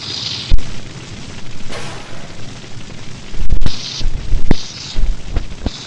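Grenade blasts and gunfire boom through a video game battle, several heavy thuds and bursts scattered over a few seconds against dense, noisy game background, loud and close, with no speech.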